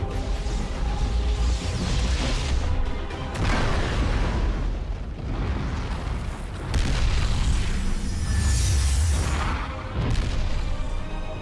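Explosions in the StarCraft II video game: a series of heavy booming blasts and crashing rumbles, loud and close, rolling one after another with short gaps between.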